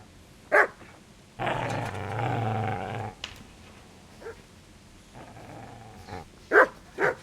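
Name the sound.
dog growling and barking in Kingdom Come Deliverance video game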